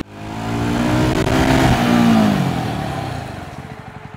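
A Jawa 350 motorcycle engine while riding, a loud close engine note that swells as the bike accelerates, holds steady, then eases into a softer throbbing idle near the end, with no talk.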